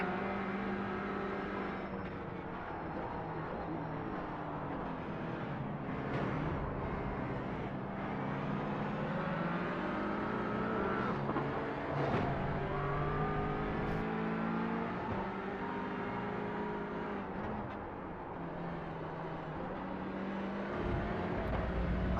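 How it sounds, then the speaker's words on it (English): A Mustang engine roars alongside in a banger racing video game, a loud sustained drone with rising and falling revs holding for the whole stretch, no voices over it. "Can't hear anything because that Mustang at side."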